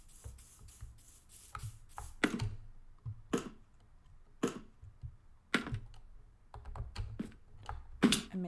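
Computer keyboard typed on during a Minecraft gaming session, with irregular clusters of sharp key clicks and clacks, some louder bursts, fairly close with quiet gaps between.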